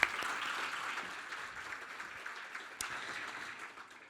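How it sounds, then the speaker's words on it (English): Audience at a Sunshine Coast careers dinner for teachers gives a round of applause for students, a soft, fairly sparse clapping that fades over a few seconds. "A little bit of a round of applause."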